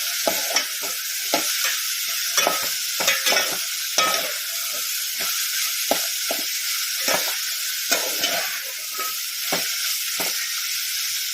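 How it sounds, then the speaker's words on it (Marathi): Cut drumsticks and carrot sautéing in a pan for sambar, a steady close sizzle broken by frequent scraping stirs of a spatula throughout. "शेंगा कापून घेतलेल्या आहेत ते टाकून घेणार आहोत तर छान असे परतून घेणार आहोत"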